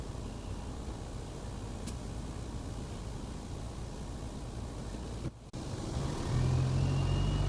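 A loaded grain truck idling and creeping forward at an unloading pit, a steady, moderately loud engine rumble with broadband noise that swells slightly near the end as the truck moves.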